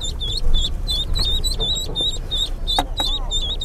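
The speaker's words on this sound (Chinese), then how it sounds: "小鸭子就喜欢叫" A duckling quacks in a fast run of high, insistent peeps, close and loud over a low background rumble.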